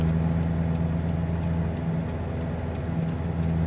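A Volvo 730 truck engine in American Truck Simulator holds a steady, loud drone with a constant low hum and no clear rise in pitch, running alone without talk.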